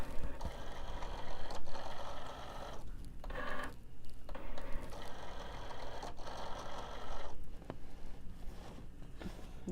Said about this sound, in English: now push the go button